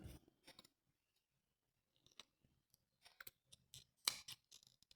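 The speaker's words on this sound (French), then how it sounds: "Et je vais couper mes fils." Scissors snipping crochet yarn threads on a small angel ornament, a few quiet close snips and clicks separated by short silences, with no talking.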